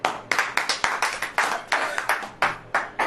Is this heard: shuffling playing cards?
no